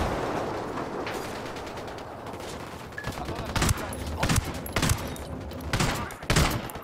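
Gunfire rattles through a video game raid: low rumbling at first, then a series of sharp, loud bursts crack out in quick succession near the end.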